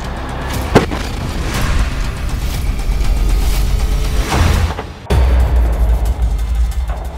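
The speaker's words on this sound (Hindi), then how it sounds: "हमास के रॉकेट इजरायली टैंकों के हैच वाले यानी ऊपरी हिस्से पर सीधा हमला कर रहे हैं" Explosions from rocket strikes on tanks in a war zone: continuous loud rumbling roar with heavy low booms and a sharp crack, dense and unbroken throughout, no speech.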